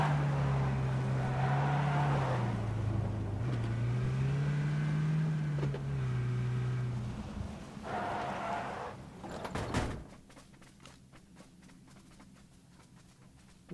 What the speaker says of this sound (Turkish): Sağda araba